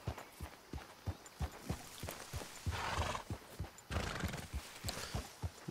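A horse in Red Dead Redemption 2 walks with steady, evenly spaced hoof clip-clops and lets out two breathy neighs and snorts over the footfalls.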